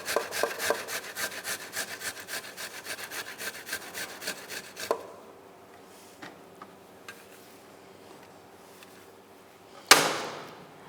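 Garlic rubbed against a handheld grater in a home kitchen makes a steady, rapid rasping stroke rhythm for about five seconds, then stops, leaving a few faint clicks and one sharp knock near the end.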